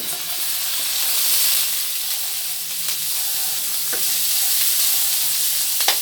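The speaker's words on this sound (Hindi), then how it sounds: "कैरेमल बनाने के लिए कढ़ाई में डालेंगे हम मक्खन।" Butter melts in a hot wok for jaggery caramel, giving a steady close sizzle and hiss with faint stirring scrapes, no talking.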